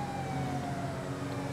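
A police car siren in the GTA 5 Online video game wails steadily and loudly throughout, a continuous sustained tone over engine and traffic rumble, with no pauses.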